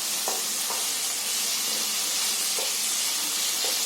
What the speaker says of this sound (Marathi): आता हे ना टोमॅटो चांगली आहे ना म्हणजे तेल सुटेपर्यंत चांगली मुरवायची.